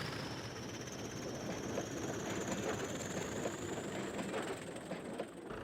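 A diesel engine rumbles steadily past a level crossing, a constant low roar with faint rhythmic clatter and a high whine drifting slowly upward over a few seconds.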